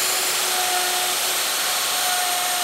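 A router cuts a mortise in a wooden workpiece held in a MatchFit mortiser jig, giving a loud, steady whining roar that runs unbroken throughout.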